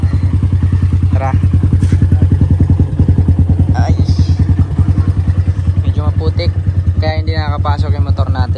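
A 200R motorcycle engine runs steadily with a loud, near, continuous throb as it rides along a slippery muddy road, with occasional clatter and thumps from the rough surface.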